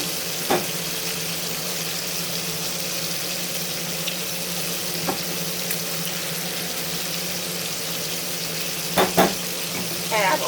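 Red onion marmalade with red wine vinegar sizzles steadily in a pan, a constant hiss with a few short clinks and scrapes of stirring scattered through.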